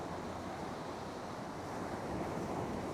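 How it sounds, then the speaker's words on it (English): Ocean waves breaking on the shore at night, a continuous loud wash of surf mixed with wind buffeting the microphone, with no voices. "just listen to the waves"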